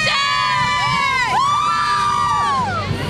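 High-pitched whooping and cheering from an excited crowd at a pregame event for the O'Connor Mustangs, with sweeping squeals and shouts rising and falling over steady background noise.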